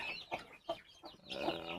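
Chickens and guinea fowl at a farm waterer cluck in short close bursts, then a longer, louder run of clucking near the end.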